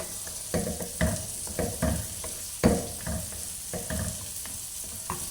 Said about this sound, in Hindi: इसको चम्मच हिलाते जाएंगे